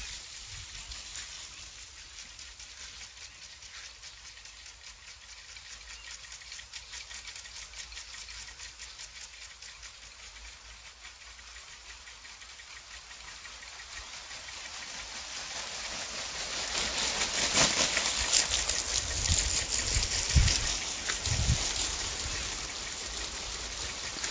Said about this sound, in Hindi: ये देखिए, इस तरह से चाय के बागान में पानी दिया जाता है। ये स्प्रिंकलर है।